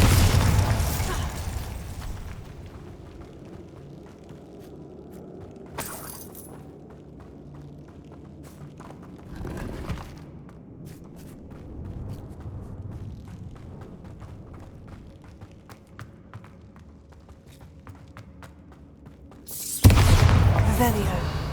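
Bombarda spell explosions from a Harry Potter video game: loud, booming blasts at the start, around the middle and a final heavy burst at the end, with quieter crackling thumps and game ambience in between.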